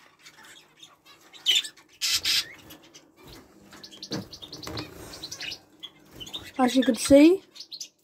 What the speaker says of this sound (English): we've got all the birds and stuff and zebra finches, canaries down here.